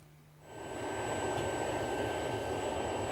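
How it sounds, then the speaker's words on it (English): A propane jet fire roars steadily against a steel bulkhead at about 1200 degrees, a loud, dense broadband rush that surges up after a quiet start and then holds constant, with faint tonal whines above it. "The propane jet fire was initiated and the temperature on the surface of the bulkhead was approximately 1200 degrees centigrade."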